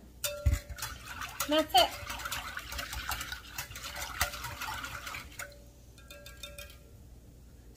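Au jus gravy mix being stirred into water gives soft, quiet liquid swishing and light clinks against the container, with a voice speaking briefly over it.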